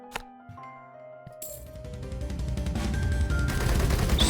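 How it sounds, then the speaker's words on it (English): An airplane strafing run in Rogue Tower: a rapid stream of gunfire that builds and grows louder over a few seconds after some bright metallic clinks, with no talk. "Strafing run."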